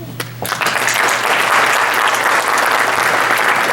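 Sustained applause from a gala audience at an anniversary celebration swells in after a brief moment and holds as a dense, loud wash of clapping, close and continuous, with little crowd chatter.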